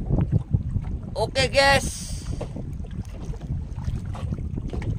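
A small Indonesian fishing boat heads home across open sea, its motor a steady low rumble under heavy wind buffeting, with someone speaking briefly over it.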